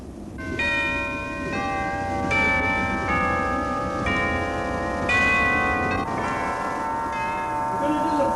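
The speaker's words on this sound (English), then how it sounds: "Give me the chimes, Ed." Bright metallic chimes strike repeatedly in a steady sequence, their ringing tones overlapping and sustaining over a low background hum.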